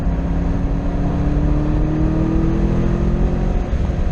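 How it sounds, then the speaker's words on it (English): Corvette C6 Z06 with its LS7 V8 revving hard on a race track, the loud sustained engine note climbing through a gear change, echoing off a nearby wall. "that LS7 sounds so good banging off the wall there"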